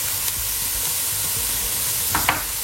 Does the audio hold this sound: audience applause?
no